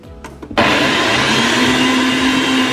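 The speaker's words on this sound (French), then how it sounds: "Vous mettez un petit peu de produit vaisselle dans le blender. Un tout petit peu d'eau. Vous le mettez en marche." A blender whirs steadily with a little dish soap and water sloshing inside, switching on abruptly after a moment of quiet and holding a loud, continuous motor roar.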